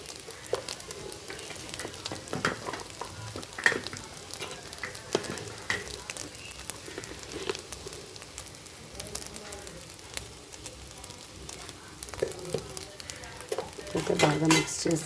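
Food fries steadily in a pan while it is stirred in with garam masala for a quick Indian protein snack, a constant sizzle broken by soft scraping and clinking from the spoon.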